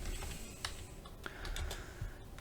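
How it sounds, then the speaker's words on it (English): Computer keyboard typing while entering text into 3D animation software, a quick run of light, irregular key clicks close to the mic. "If we type, we'll just type Mercury here, Mercury and radius."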